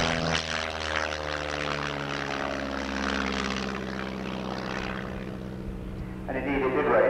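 A vintage single-seat aerobatic racing biplane drones overhead at an air display, its propeller engine a steady loud buzz that slowly fades, with a narrator speaking throughout.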